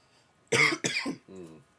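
Three harsh coughs in quick succession, close up, the last one softer and more throaty.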